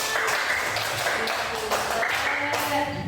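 Children in a coding and artificial intelligence classroom applaud a classmate, a steady wash of clapping with a few distinct patterned claps ringing out near the front, continuous throughout the short burst.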